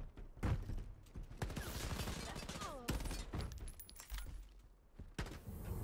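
Gunfire from a weapon in the shooter game Shatterline, rapid bursts of loud shots with metallic clinks and crashes, close and dense, repeating across the whole stretch.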